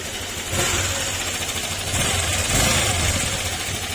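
A Honda Click 125 V3 scooter engine with a faulty manual cam chain tensioner runs steadily with a rough, rattling tick riding on the motor's hum, close and fairly loud throughout.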